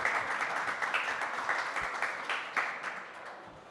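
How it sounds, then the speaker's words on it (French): A conference audience claps for energy-regulation panelists at a round table on renewables and power-system flexibility; moderate, fairly steady applause that gradually fades over a few seconds. "Vous pouvez les applaudir."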